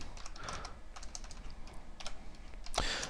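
Close, fast, irregular keystrokes clatter on a computer keyboard in uneven bursts, with a louder flurry of taps near the end.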